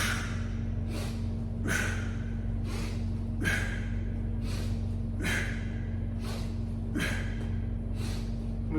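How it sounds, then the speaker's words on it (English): Forceful breaths repeat at a steady pace, roughly every second and a half, during single-arm kettlebell swings. Each sharp, close, breathy rush is clear over a low, constant hum. "Deep inhale."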